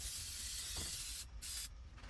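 Aerosol brake cleaner sprayed onto brake caliper parts over a drip pan in a garage, a loud, steady broadband hiss in close bursts with two brief pauses near the end.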